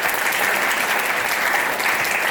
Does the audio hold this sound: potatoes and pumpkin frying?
no